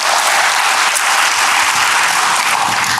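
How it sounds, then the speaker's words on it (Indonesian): A church congregation claps steadily, dense sustained applause filling the room from start to finish at a loud, even level with no talk over it. "Berikan dulu tepuk tangan bagi Tuhan."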